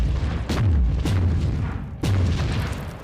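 Booming shots from a manned turret in the Warhammer 40K: Inquisitor - Martyr video game, three heavy blasts spaced about half a second to a second apart, each with a low rumbling tail over a steady background.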